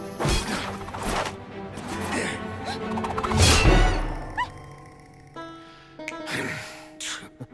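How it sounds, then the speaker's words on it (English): Animated cartoon fight in which a hurled rock strikes a character's back and shatters, with a sequence of loud crashes, thuds and breaking impacts over music, including a heavy smash midway and a gasp-like voice. "managing to hurl a rock onto Moxie's back and shatter it"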